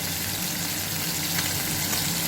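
Fish roasting over heat for cooking, a steady dense crackling sizzle that holds evenly throughout, close and fairly loud.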